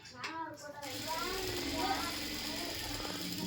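A sewing machine runs steadily while stitching a chudidar top, a continuous mechanical whirr holding for about three seconds beneath a voice talking over it.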